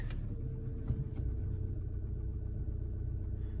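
A 2014 Opel Corsa D 1.4 rolling off in first gear on a cold night, its engine a steady low rumble close by with no one talking.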